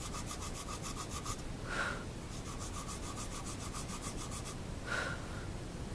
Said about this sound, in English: So I'm just going to sand it off